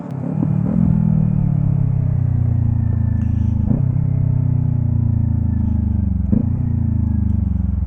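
A Kawasaki Ninja 400 motorcycle filters through road traffic, its engine a loud, close, steady drone with slight pitch changes and a few faint clunks, no talking.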